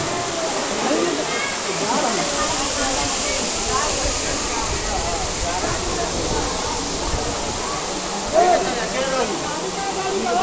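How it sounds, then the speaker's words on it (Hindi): A constant broadband rush of falling water from Kakolat waterfall in Bihar fills the scene, with a person speaking faintly over the steady roar. "ये नज़ारा जो है जहाँ पे झरना है पानी जहाँ से गिरती है"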